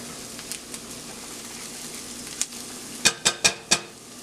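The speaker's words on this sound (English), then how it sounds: "Give it just a minute for that garlic to cook." Three cloves of crushed garlic cook in a hot pan, giving a steady low sizzle, with a few sharp utensil clicks and scrapes close by near the end.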